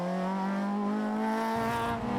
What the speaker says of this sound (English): Brakes hard, turns now through the hairpin.